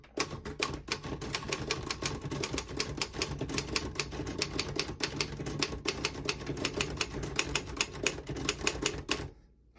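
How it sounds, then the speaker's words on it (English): Rapid typing on a 1940 Royal KMM vintage desktop typewriter, crisp dense key strikes in a steady burst for nearly ten seconds, loud and close, then stopping abruptly. "I'll type a sentence on the next line."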